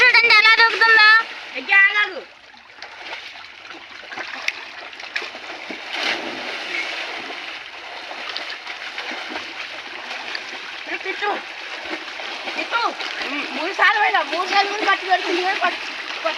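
People jump into a village well in Mudigonda, making repeated splashes and water churning over many seconds while children and adults talk and call out nearby, the splashing louder toward the end.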